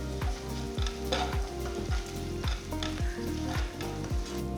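Curry leaves with turmeric and salt frying in a pan for a brinjal and black-eyed pea curry, a steady loud sizzle broken by regular scraping stirs about every half second, with no talk.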